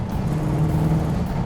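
A 1970 Plymouth Road Runner with a 440 Six Pack V8 and four-speed pulls hard in third gear, a steady, loud, close engine drone with a low rumble and no voices.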